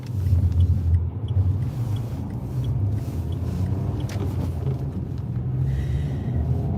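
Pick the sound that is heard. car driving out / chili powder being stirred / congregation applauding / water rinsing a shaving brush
car driving out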